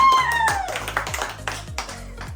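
Family members clap their hands at a home celebration, a run of quick, close claps at steady rhythm with some overlap, fairly loud with no talk.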